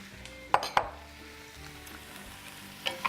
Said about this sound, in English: Now we add the 1 cut up onion and the mushrooms.